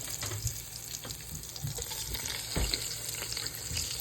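Sausages, one sweet and one hot, browning in a pan for homemade sauce, giving a steady low sizzle with scattered pops and clicks, fairly faint and close, with no talking.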